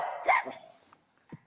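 A dog lets out one sharp, close bark, then goes quiet, followed by a faint short yip near the end.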